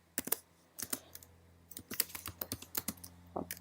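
Someone types a short note on a computer keyboard, a quiet close-up run of crisp key clicks in uneven bursts with brief pauses between them.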